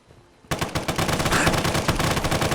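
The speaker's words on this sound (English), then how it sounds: "No, it's shooting me." Automatic gunfire erupts in a Fallout 4 firefight after a brief quiet moment, a loud, close, rapid burst of shots rattling on continuously to the end.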